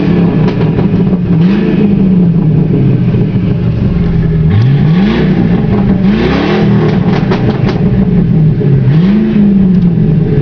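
A 1999 Ford Crown Victoria with its mufflers removed revs repeatedly, the loud, raw exhaust rising and falling in several throttle blips over a steady rumbling idle, close by with no talking.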